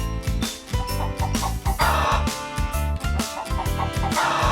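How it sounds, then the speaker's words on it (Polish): Cartoon hens clucking in quick repeated bursts over a busy, bouncy musical backing in a children's educational farm animation, with chicken calls layered throughout. "Kura robi ko-ko-ko."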